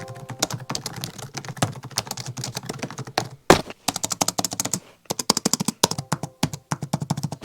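Fingers type rapidly on a cheap £5 laptop keyboard, producing dense, close clicky taps with a springy feel in irregular bursts and a brief pause near the middle.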